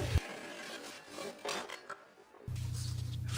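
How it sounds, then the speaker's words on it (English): Hand saw cutting into a live-edge olive wood shelf, with short rasping strokes between two stretches of steady low hum, close and fairly quiet. "I'm just kind of cutting into a little bit, so it'll kind of guide the saw all the way through"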